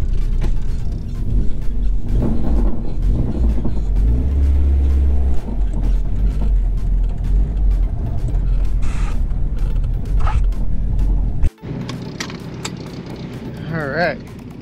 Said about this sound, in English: how else you can get the feeling the way the VTEC engages in this car other than a POV drive.